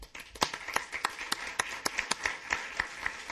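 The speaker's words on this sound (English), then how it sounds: "I think that deserves a round of applause" Scattered clapping from a small audience at a regular council meeting, a thin run of separate sharp claps at an uneven pace, fairly faint and distant in a reverberant chamber.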